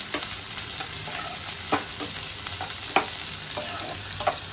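Green chillies and capsicum stir-fry for chilli paneer, a soft, even sizzle broken by repeated clinks and scrapes of a spoon against the pan.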